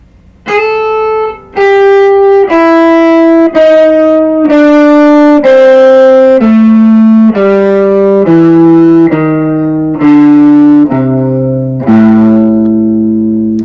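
An electric guitar with effects steps through a chromatic blues scale in A, with passing tones and blue notes, as a steady run of distinct single notes, each one ringing loud and clear for about a second, with no talking.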